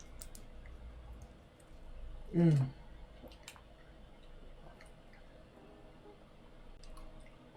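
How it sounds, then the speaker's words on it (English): A small sip of drinking water, a single quick wet gulp with a slight liquid click near the middle, fairly close, over a quiet room hum. "Let me get like a little drink of water."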